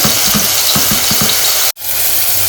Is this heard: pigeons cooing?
no